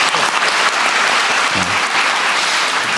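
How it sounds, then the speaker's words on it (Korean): A town hall audience gives a loud round of applause for the Gyeonggi governor, a thick, continuous clatter of many hands with a brief low voice partway through. "우리 경기도지사님도 오셨는데 박수 한번 부탁드립니다."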